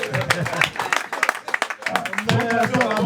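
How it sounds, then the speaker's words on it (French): Guests clap at a civil wedding ceremony. Bursts of applause come and go as the officiant speaks over them, and there is a short lull midway before the clapping swells again. "on applaudit."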